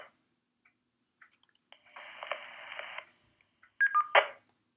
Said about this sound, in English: And somebody keyed up the repeater there.